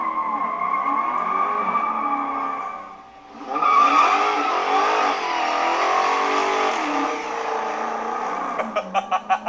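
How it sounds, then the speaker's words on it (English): A Dodge Hellcat Redeye runs a line lock burnout to warm its tires. The supercharged engine drones loudly, dips, then roars back up with tire noise, and a few sharp revving pulses close the clip. "we should warm up the tires with a line lock first"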